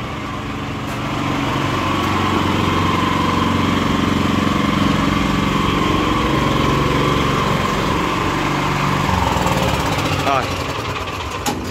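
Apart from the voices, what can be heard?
petrol engine of a small four-wheel utility vehicle idling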